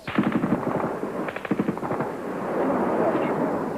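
Bursts of automatic gunfire crackle in rapid volleys during the 1993 armed assault on the Ostankino TV station in Moscow, loud and near, easing into a steadier roar of noise.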